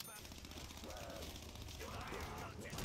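A Tommy gun firing in Black Ops 3 Zombies, a fast rattling burst that runs nearly throughout, mixed with game noise while a person talks over it.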